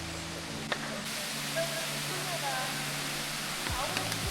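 Steady, broad rushing water of a waterfall in the Brecon Beacons, Wales, a continuous roar with faint scattered sounds mixed in.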